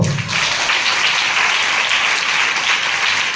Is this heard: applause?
yes